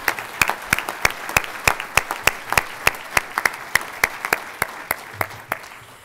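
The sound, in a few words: applause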